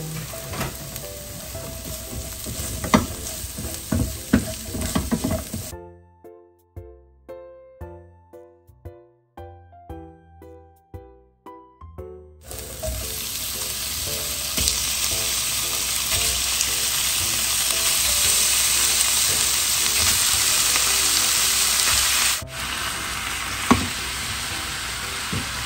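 Onion and garlic fry for menudo with a loud, steady sizzle that runs throughout, interrupted midway by a short musical chime passage before the frying resumes.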